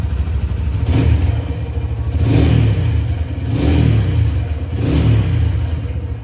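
A 2010 Honda Tiger Revo SE motorcycle warming up, its engine idling and then revving in repeated swells every second or so, loud and close.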